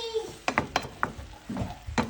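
Bitter gourd (ampalaya) being stirred in a sizzling pan, with a handful of sharp utensil scrapes and clinks over a soft frying hiss, close and fairly quiet.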